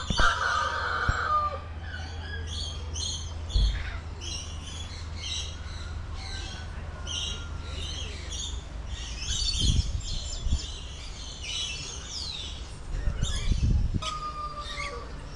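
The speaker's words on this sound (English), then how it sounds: "There's your laughing kookaburra." A laughing kookaburra calls in a Barbados nature park, its loud, rapid, cackling bursts repeating through the clip over low background rumble.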